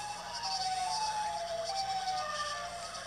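A wailing Siren Head siren in the Roblox game with electronic, synthetic tones rises and falls continuously at a steady level, with no voices.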